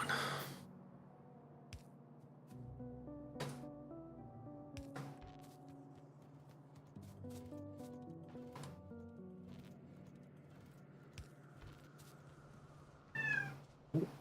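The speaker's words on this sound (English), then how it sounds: "Now my cat's yelling at me." A house cat meows loudly and repeatedly, its insistent calls rising over a steady tonal background of game music, with a louder burst near the end.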